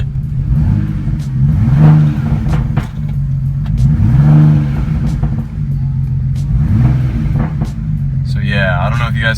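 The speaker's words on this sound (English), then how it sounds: "I'll give it a few revs and you guys can probably hear it" A BMW 335i with a failed ignition coil is revved several times, each blip swelling over a rough, uneven low rumble at idle, close to the engine, with a voice talking at the end.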